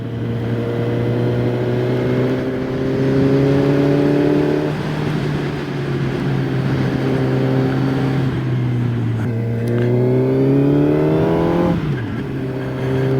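A QJ Motor SRK 421 RR four-cylinder motorcycle engine, new and lightly run in, revs steadily at close range while riding, with a strong steady drone and rising pitch sweeps between shifts.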